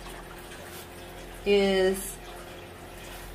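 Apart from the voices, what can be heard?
spring water poured from a jug into a reservoir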